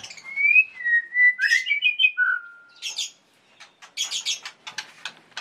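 Close, loud white-rumped shama delivering clear whistled phrases followed by a rapid series of varied chirps and trills, with short pauses between bursts.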